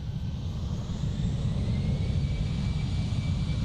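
An EasyJet airliner departing Amsterdam airport for Glasgow produces a brief, steady low engine rumble at moderate distance, with no voices.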